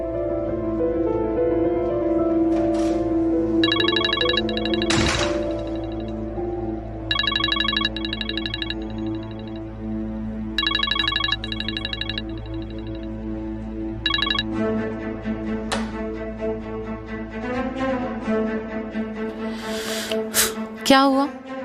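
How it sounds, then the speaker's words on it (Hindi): A telephone ringtone repeats in bursts of bright electronic tones that keep going unanswered, mixed with background music and occasional voices in a drama scene. "फातिमा कहाँ फोन उठाती है?"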